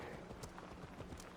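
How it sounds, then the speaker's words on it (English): A giant cat mount in Assassin's Creed Valhalla walks with footsteps that sound like horse hooves on the ground, a steady clip-clop rhythm under a dense, noisy game soundscape. "It sounds like it's fucking horse hooves hitting the floor."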